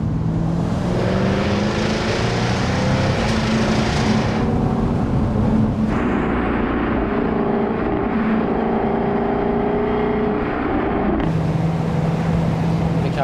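A Jaguar F-type R V8 on the move gives a loud, steady engine drone with shifting tones and brief changes in pitch as it pulls along, heard close from inside the car.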